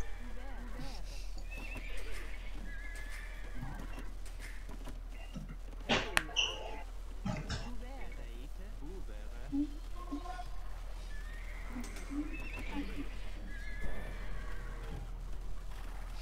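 Horses neigh and whinny repeatedly in an Age of Empires II 4v4 match, several calls spread across the game's sound effects with hoof clip-clop and occasional combat hits, while players talk over it.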